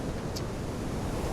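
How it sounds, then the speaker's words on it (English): Strong wind roars steadily at sea aboard a sailboat crossing the Adriatic single-handed, broadband gusting noise buffeting the microphone with surf-like wash, loud and continuous with no voices. "It's very windy here."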